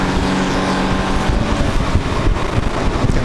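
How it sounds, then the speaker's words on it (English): A 6-cylinder Jaguar XK race car engine at the Goodwood Revival circuit roars loud and close in a steady, dense drone, with wind buffeting the microphone throughout. "Beautiful sound of this 6-cylinder Jaguar XK engine that powered so many successful race cars, so many fabulous road cars."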